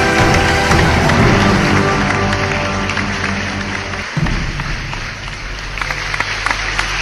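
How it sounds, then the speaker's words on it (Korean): Broad, sustained applause from a hotel ballroom audience at a Taegukgi hanbok fashion show, welcoming the organizing committee chair, a dense wash of clapping that thins and grows more scattered toward the end. "여러분 큰 박수로 맞아주십시오."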